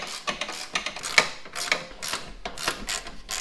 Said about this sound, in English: We're going to undo all the bolts.